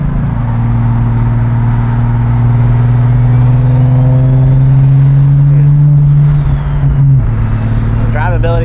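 A 1,400 hp car accelerating hard on a test drive, its engine holding a loud, steady rising drone with a gear change near the end, under people talking in the cabin.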